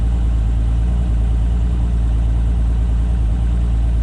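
A Mercury Optimax 200 outboard engine idles steadily and close by, with a constant low rumble and no speech throughout.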